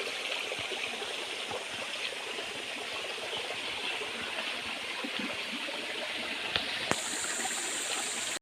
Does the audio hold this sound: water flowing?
yes